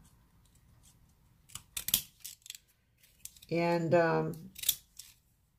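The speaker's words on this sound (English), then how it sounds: "the little one, we're going to do very, very close to the edge. You know, just trim them all out." Scissors cut a paper Halloween drink packet close to the edge with several quick, crisp snips in short clusters, close and fairly clear, and a voice briefly speaks.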